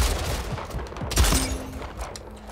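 Rapid gunfire in the sci-fi shooter game Splitgate crackles in a dense, loud burst of overlapping shots, with heavy low thumps and a brief tonal hum near the end.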